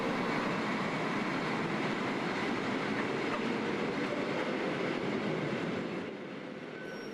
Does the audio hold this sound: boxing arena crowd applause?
no